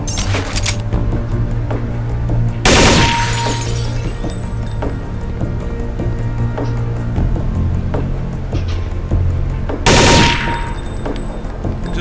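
Short controlled bursts of rifle fire crack out in Counter-Strike: Condition Zero, with two loud rapid bursts standing out over a steady humming game background on a training range.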